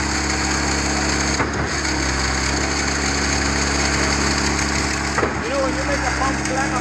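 Engine of a Schwing BPA500 concrete pump running steadily on a mountain site, a constant mechanical drone with high whine, interrupted twice by brief low knocks or thuds.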